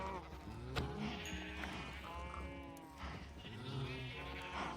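Sheep in Minecraft bleat repeatedly, several wavering cries spread across the stretch, moderately near, with faint background noise and no talk.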